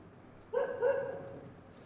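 A dog barks in the background during an indoor live lesson, a single harsh bark-like burst that lingers briefly at moderate volume with no talk over it.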